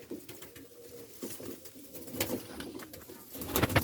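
Mamdin pigeons at a breeder's loft coo in soft, repeated rounds, close by, with rustling and patter around them and a fuller burst of cooing near the end.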